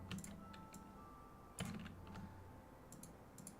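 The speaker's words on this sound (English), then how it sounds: "I'm still typing it" Quiet, steady typing on a computer keyboard, with irregular clusters of key clicks and one sharper louder stroke midway, heard alone without talk.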